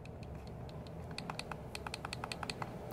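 Fire button on a Laisimo V80 mini box mod being clicked, a quick series of small, faint, crisp clicks in close succession over a low background hum.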